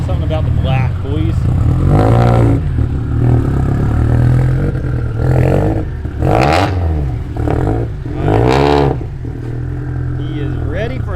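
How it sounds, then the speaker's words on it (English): Turbocharged Subaru with a Precision 6062 turbo running on E85 from a cold start, revving hard in repeated loud bursts with whooshing and rising, falling engine pitch close by. "This is even on a cold start E85. Just fired it up, pulling her in."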